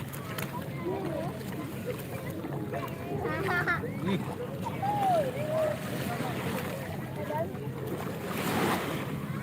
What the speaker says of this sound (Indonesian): Ombaknya udah mulai besar